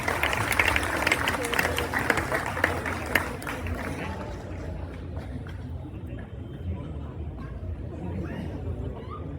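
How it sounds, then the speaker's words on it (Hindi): An audience at a Rajasthani folk dance show at Bagore Ki Haveli in Udaipur gives a short burst of applause to welcome a volunteer on stage. The clapping fades after a few seconds into crowd murmur and hall ambience. "एक बार डॉक्टर साहब का तालियों से स्वागत हो जाए।"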